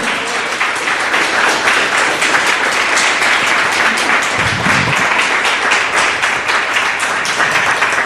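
A church congregation applauds steadily during a worship evening, dense sustained clapping from many hands filling the room at a loud, even level throughout, with no voices standing out.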